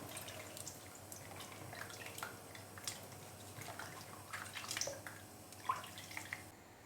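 Washed leeks drain in a strainer, giving faint, scattered drips and trickles of water with a few soft clatters, quiet and close.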